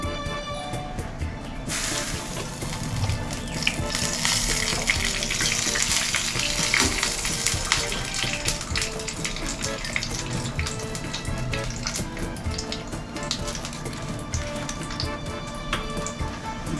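White cumin seeds hit hot oil in a pan for a Bengali katla fish curry, setting off a loud, steady, close sizzle that runs the whole time with no voice over it.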